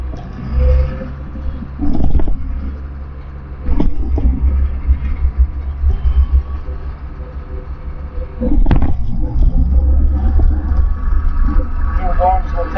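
A tractor on GPS autosteer rumbles along steadily at about ten miles an hour, its engine drone loud and continuous, with occasional knocks and shifts in level.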